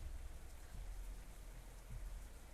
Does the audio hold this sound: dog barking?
no